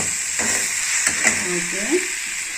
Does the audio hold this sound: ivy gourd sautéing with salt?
yes